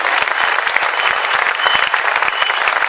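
An audience at a Hindi poetry recital bursts into loud, dense applause, sustained and close, with many overlapping claps.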